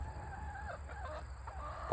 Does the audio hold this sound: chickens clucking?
yes